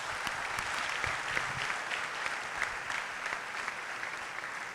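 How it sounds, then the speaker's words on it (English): An audience gives a steady round of applause at a talk, the clapping dense and sustained from start to finish at moderate, slightly distant volume with no voices over it. "and a huge round of applause for him."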